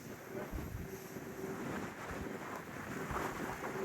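Gusty 40 mph wind on a ski slope at Steamboat roars steadily across the microphone, a continuous close rumble that swells slightly in gusts.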